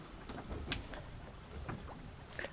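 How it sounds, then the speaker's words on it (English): Quiet boat engines idle while fishing for king salmon, a low, soft rumble with faint splashes and wind noise around it and no talk. "those engines are sure all quiet"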